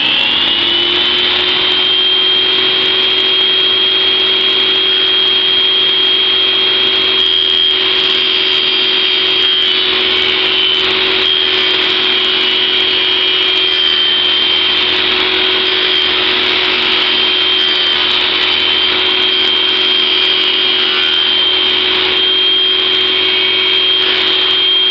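A table saw blade is wiggled back and forth to smooth a dovetail jig cut in wood, a loud continuous high whine with a steady hum beneath, unbroken for the whole stretch and without talk.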